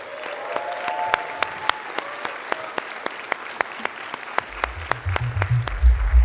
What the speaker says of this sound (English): please give a big round of applause to Mr. Edward Snowden